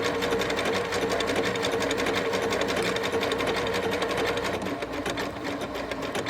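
A sewing machine runs steadily as it stitches a quilt block for a colour collage pattern. The motor whirs loud and close, with a rapid, even needle rhythm and no talking.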